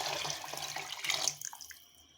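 Water poured into a pot of peas and rice for mater pulao, a brief splashing stream that tapers off and fades to quiet drips.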